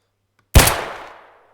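A single sharp gunshot fired during a bank robbery in a game played with a squad, loud and close, with a sudden broadband crack and a decaying tail, standing alone with no talk over it.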